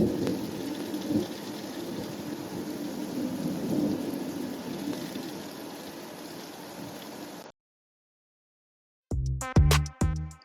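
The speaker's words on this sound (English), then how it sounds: "This is thunder sleet from my backyard." A thunder sleet storm recorded in a backyard: steady pattering precipitation with deep rolling thunder rumbles for several seconds, then silence followed by a short burst of musical tones.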